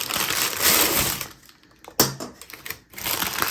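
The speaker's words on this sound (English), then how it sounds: "I'm gonna release it from the springform pan." Freshly baked Basque cheesecake is freed from a springform pan, giving crinkly parchment rustling and scraping, then an abrupt metallic click from the latch before more crackly handling noise, fairly close and with no talking.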